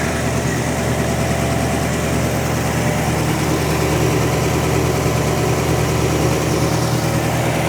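A 1947 Ford engine runs steadily at idle, a dense continuous rumble with a rough low-frequency chug, loud and close throughout with no pauses.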